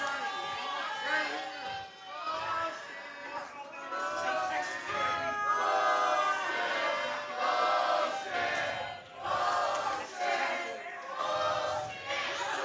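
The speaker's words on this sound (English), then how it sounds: "A crowd not having any of it here." A wrestling crowd at a Texas pro championship match jeers and shouts in a loud, sustained roar of many voices, with a commentator's voice over the top.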